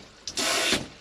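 A motorhome shower head lets out a short burst of running water, a brief hissing spray that starts suddenly and cuts off within about half a second, close and fairly quiet.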